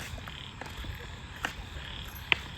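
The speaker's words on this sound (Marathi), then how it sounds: "आणि यांना बेडूक भेटलं." Frog croaking outdoors, a few short scattered calls and chirps against a faint noisy background, with one sharper, louder call near the end.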